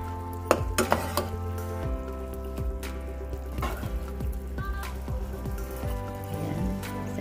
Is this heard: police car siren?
no